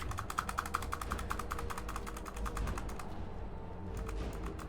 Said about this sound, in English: Is my keyboard as loud as my voice?